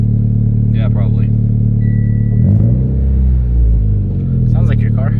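A Mitsubishi Evo X on an ethanol tune, around 550 wheel horsepower on a dyno, idles with a deep steady rumble that swells briefly mid-clip, while people speak briefly nearby.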